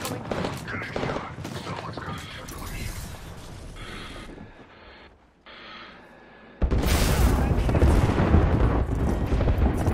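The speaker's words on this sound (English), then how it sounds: "Oh, that is an airstrike." An airstrike in the video game Apex Legends, heavy rumbling explosions and crackling blasts that ease into a quieter lull before a loud, dense barrage erupts and carries on to the end.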